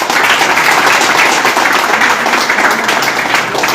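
Loud, dense applause from a crowd greeting a team captain at a jersey unveiling, steady clapping throughout with no pauses.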